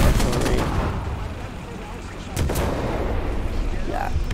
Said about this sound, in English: Come on, artillery.